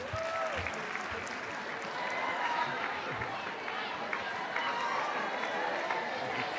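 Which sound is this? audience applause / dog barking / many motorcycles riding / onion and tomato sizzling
audience applause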